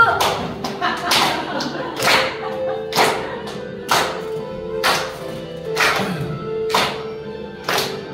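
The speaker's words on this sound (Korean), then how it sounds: "박수!" An audience at a marriage and family counseling lecture claps in a slow, steady rhythm, one sharp clap roughly every second, loud and close, with a voice sounding underneath.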